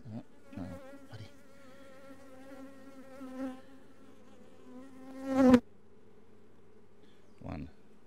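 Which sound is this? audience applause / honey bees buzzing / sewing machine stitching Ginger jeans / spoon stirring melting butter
honey bees buzzing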